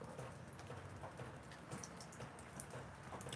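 Steady rain falls outside on a cold day, a continuous dense hiss with scattered patter of drops, moderately loud and alone with no voices.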